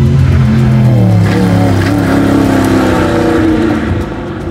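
A 650 hp Noble M600 turbocharged supercar engine accelerates hard on a road, a loud, close, rising roar that holds strong before easing slightly at the end.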